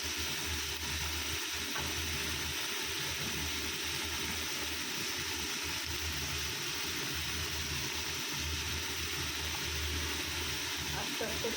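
Food frying slowly in a pan with a little sugar gives a steady, low hiss of sizzling that continues evenly throughout, with no clear pauses.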